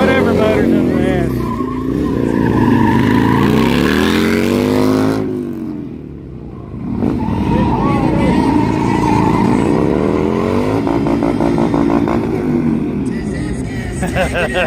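Harley-Davidson twin cam motorcycles, including an 08 Sportster, drag race at the Buffalo Chip, loud engines rising and falling in pitch as they accelerate through gears, with a brief dip before the roar returns and crowd voices underneath.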